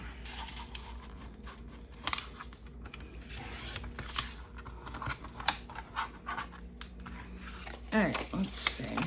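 Scissors snip through paper collage fodder in irregular bursts of cutting and rustling, close and moderately loud, with paper crinkling now and then.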